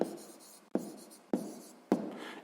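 Pen or pencil writes out a maths solution on paper, four distinct scratchy strokes, each starting sharply and trailing off, close and quiet with no talk.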